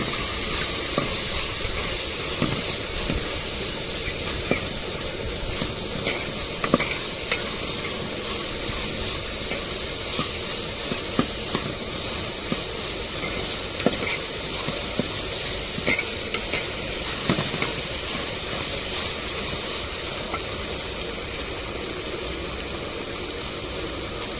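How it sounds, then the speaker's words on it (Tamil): Ginger-garlic paste, freshly ground on a grinding stone, sautéing in a pan with vegetables for an egg curry, giving a steady close sizzle and hiss with scattered clicks of stirring throughout, no talking. "இப்போ இஞ்சி பூண்டையும் அம்மிலேயே அரைச்சி எடுத்தாச்சு இப்போ சேர்த்து வதக்கிட்டுருவோம்"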